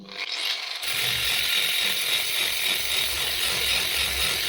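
A GTM AG125/1400VS angle grinder fitted with a rust-removal attachment spins up after a brief quiet start and then runs steadily at minimum speed with a buzzing whine and scratchy rattle, close and alone.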